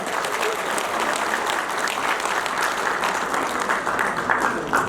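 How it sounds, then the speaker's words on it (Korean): An auditorium crowd at a party members' meeting gives a candidate a big round of applause, sustained, dense clapping that stays loud throughout. "김재원 후보에게 큰 박수 부탁드리겠습니다"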